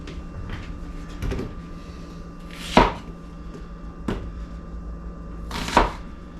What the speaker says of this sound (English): I just chop mine up kind of small.